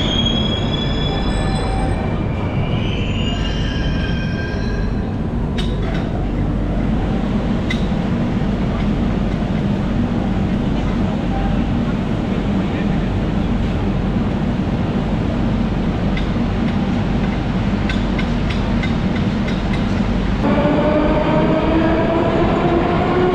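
A Moscow metro train at Arbat station rumbles loudly and steadily, its wheels squealing on the rails, with high whining tones rising near the end.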